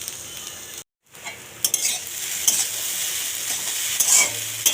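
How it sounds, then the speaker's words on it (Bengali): Onion, green chili and scrambled egg fry in a pan, a steady crackling sizzle broken by a short silence, then scraping stirs and spattering bursts. "পেঁয়াজ কাঁচা লঙ্কা সব ভেজে নিয়ে ঝুড়ো করে ডিম ভেজে নিয়েছি"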